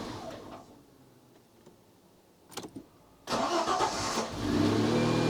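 A Citroen XM 3.0 24V engine, not yet fully warm, is quiet at first, then a brief cranking sputter, then the engine catches and roars to a steady idle, close by.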